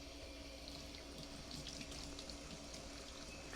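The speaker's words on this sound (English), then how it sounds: "Next, you just want to rinse these off well." Tap water runs steadily over fresh cranberries being rinsed in a sink, a constant soft splashing hiss. It is fairly faint and has no talking.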